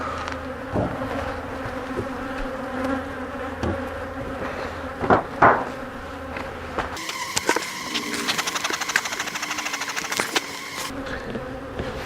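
Honey bees buzz steadily around a hot spring hive being fitted with honey supers and beetle traps, a dense continuous drone with a few brief knocks and clicks from hive equipment.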